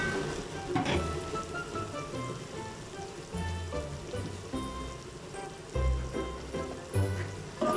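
Mexican rice being stirred in a frying pan, a constant hissing sizzle with scraping and clattering of the spoon against the pan, close and fairly loud.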